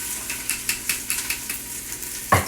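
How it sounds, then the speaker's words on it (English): Onions fried in melted coconut oil in a pot give a steady soft sizzle, with a utensil stirring in short regular scrapes about every fifth of a second and a firmer knock near the end, close and without talk. "our coconut oil is melted, so we're going to go right in with our onions"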